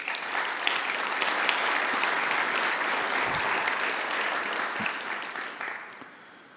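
A conference audience at an aviation forum award ceremony claps in a steady, full round of applause that fades out over the last second.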